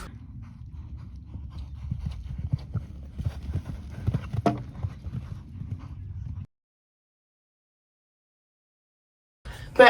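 A one-eyed horse at a farm walks with steady, fairly close hoof clops on hard ground for several seconds, then silence, with a brief sharp sound at the end.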